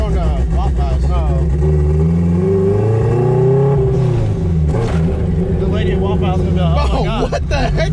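A turbocharged Honda engine revs hard inside the car, its drone rising and falling with a surge from the blower, while several people talk and shout over it throughout.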